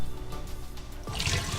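Water poured out of a preheated ceramic matcha bowl into a sink, a short splashing gush that begins softly and swells into a brief louder pour near the end.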